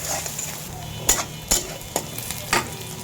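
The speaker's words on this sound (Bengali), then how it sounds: "পেঁয়াজ এখনো ভাজি হয় না, ভাজতে হোক" Garlic and onions frying in a pan for a jackfruit-seed and dried-fish curry, a steady close sizzle broken by several sharp clinks of a utensil stirring against the metal.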